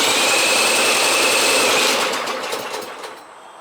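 A cordless drill fitted as a lawnmower cranking tool runs in second gear, a steady close whirring motor that holds for about two seconds and then winds down and fades.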